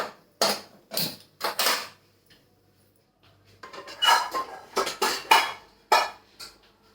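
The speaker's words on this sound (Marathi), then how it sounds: "आता गॅसवर कढई ठेवतो" Metal cookware clanks and scrapes in a few sharp bursts, then a cluster of rattling knocks as a kadhai is set down on a gas stove while cooking bitter gourd.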